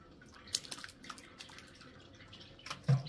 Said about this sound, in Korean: 국물 떨어지는 소리